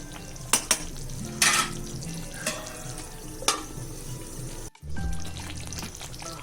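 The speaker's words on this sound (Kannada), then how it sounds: "ಮೀಡಿಯಂ ಫ್ಲೇಮ್ ಮಾಡಿಕೊಂಡು ಒಂದು 5 ನಿಮಿಷ ಬೇಯಿಸ್ಕೋಬೇಕು." Egg curry with garam masala simmers and sizzles steadily on a medium flame, with a few sharp utensil knocks and stirring clatters over the constant bubbling, no voices.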